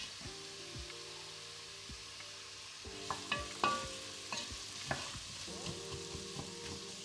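Onions hit a hot pan already seasoned with ground black pepper and sizzle steadily, with a spoon scraping and knocking against the pan in several short bursts of stirring.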